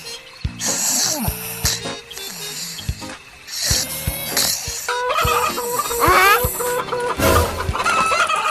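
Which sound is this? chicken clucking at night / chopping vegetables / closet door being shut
chicken clucking at night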